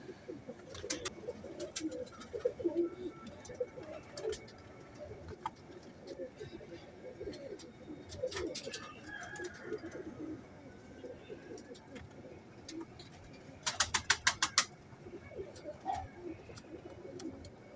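A female frozpuri pigeon coos in repeated soft, low calls close by, mixed with sharp clicks and rustling, and someone speaks intermittently over the sounds.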